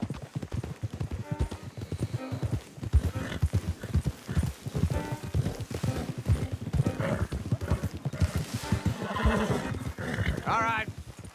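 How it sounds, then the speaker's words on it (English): Horses clip-clopping in Red Dead Redemption 2, hooves beating a steady close rhythm with occasional neighs and whinnies, mixed under ongoing male speech throughout. "Don't want the horses clopping around outside the window."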